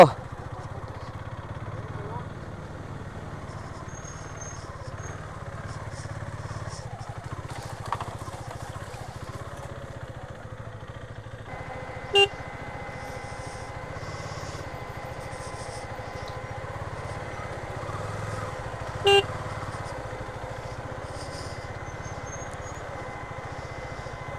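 A KTM Duke 390 motorcycle rides along a narrow road, its engine holding a steady mid-pitched drone throughout, with a few brief sharp clicks and faint background noise.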